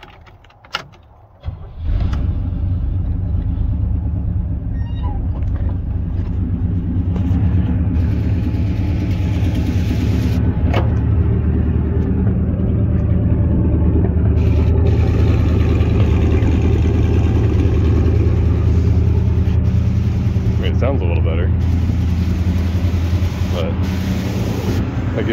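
Chevy K30 squarebody with a Quadrajet carburetor and four-speed, its engine idling with a steady, loud, low rumble just after startup that continues throughout, heard from close by.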